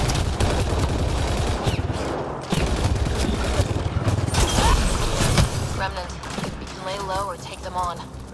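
Gunfire in Mass Effect Andromeda inside a vault, sustained rattling shots and impacts for several seconds, thinning out toward the end as a voice talks over the action.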